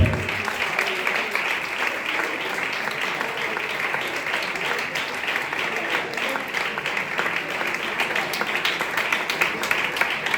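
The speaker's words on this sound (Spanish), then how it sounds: "El mejor aplauso que tenga." A church congregation claps at a worship service, a dense, steady roar of many hands that carries on loudly and evenly without a break.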